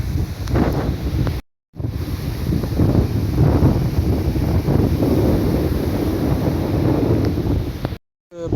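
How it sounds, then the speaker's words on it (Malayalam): Strong wind buffets the microphone near an old mosque, a loud continuous rumbling roar broken by two brief dropouts, with no voices. "നല്ല കാറ്റാണ്, കാറ്റുള്ളത് കൊണ്ട് നമുക്ക് പറയുന്ന എന്തോ കേൾക്കാൻ പറ്റുന്നില്ല"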